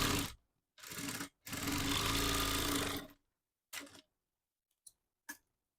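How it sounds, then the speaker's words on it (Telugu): A sewing machine stitches a straight line on a sleeve in a few bursts: two short runs, then a longer steady whir of about two seconds, followed by brief stops and starts, close and clear against silence. "డైరెక్ట్గా ఒక లైన్ అనేది స్టిచ్ చేస్తున్నాను"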